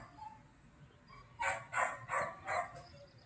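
A neighbour's dog barks four times in a quick, evenly spaced run, heard from a moderate distance through open windows. A quiet stretch comes before the barks, with a faint bird call early on.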